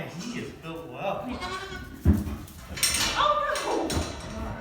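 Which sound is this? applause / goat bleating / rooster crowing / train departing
goat bleating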